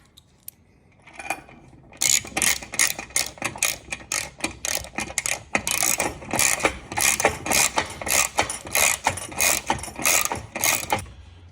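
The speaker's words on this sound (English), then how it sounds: "And now we're going to go back and snug that up with a ratchet." A ratchet snugs up a bolt on a DIY hardware-store awning bracket, producing a fast, steady run of clicking pawl strokes for about ten seconds, loud and close.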